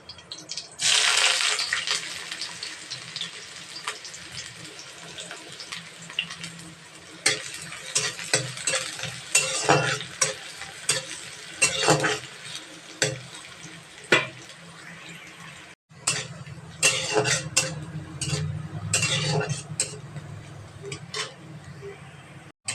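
Onions and chillies frying in oil in a pan, with sizzling and repeated stirring scrapes that come in bursts across the whole stretch, and a voice speaking at times beneath the cooking sounds.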